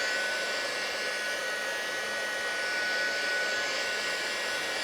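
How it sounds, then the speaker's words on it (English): A handheld heat tool blows continuously close by while heat-setting mica ink on a craft card, giving a steady, fairly loud whooshing hum with a faint high whine and no pauses or voices. "So I can heat set this if I like, which will mix some of the colors a bit more."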